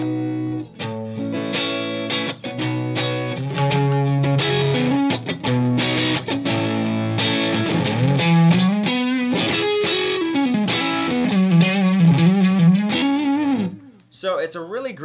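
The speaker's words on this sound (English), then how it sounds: "a compressor can almost act as a distortion pedal too" An electric guitar plays a continuous, heavily sustained and gritty lead phrase through a compressor pedal and amplifier, with bending notes and a dense, distorted edge, before cutting off briefly near the end.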